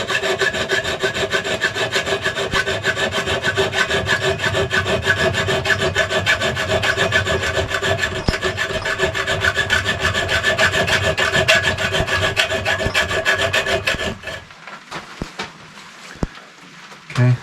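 Cutoff disc grinding through soft copper pins on a knife handle, a loud continuous abrasive whine and rasp for about fourteen seconds, then stopping into quiet workshop clatter.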